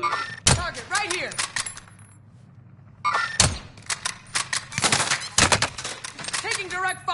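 Video game gunfire rings out in sharp, loud bursts: a few single shots and short rapid volleys, separated by a brief lull, with faint voices underneath.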